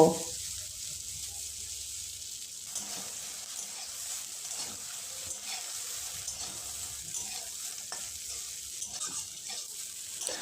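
Soybean chunks frying in white oil in a wok, giving a soft, even sizzle with faint stirring scrapes throughout, quiet and steady, with no voices.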